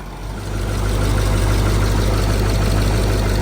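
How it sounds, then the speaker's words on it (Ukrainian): A steady John Deere tractor engine idles close by, a continuous low rumble with an even, smooth drone, almost no vibration, and no talking. "Двигун робить рівнесенько."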